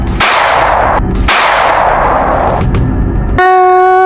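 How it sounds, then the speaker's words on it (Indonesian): Two loud, sharp pistol shots ring out close by, each trailing into a long echoing decay, followed by a steady tonal hum. "Itu bunyi pistol barusan, Sihan?"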